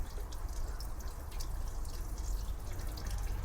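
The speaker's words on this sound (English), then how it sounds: "That's the extra water draining out." Excess water draining out of garden irrigation tubing outdoors, a steady soft trickle and drip running continuously at close range with faint background noise and no talk.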